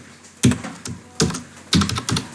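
Close, crisp clatter of a computer keyboard as text is typed for a CSS web design lesson, arriving in short bursts of several keystrokes separated by brief pauses.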